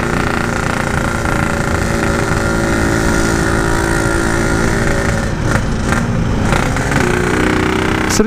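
A Yamaha RX King two-stroke motorcycle with a loud modified exhaust and crushed reed membrane runs hard and close, its raspy drone steady before a few sharp throttle blips near the end.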